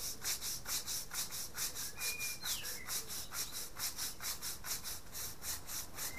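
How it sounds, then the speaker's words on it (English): Brush scrubbing a large fossil bone held by hand, a quick rhythmic back-and-forth rasp repeating steadily, close but fairly faint, with no talking. "This one we're going to have to hold and scrub."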